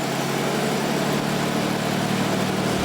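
A classic car engine, just started, idles with a steady, rough mechanical drone, close and continuous, with no talking.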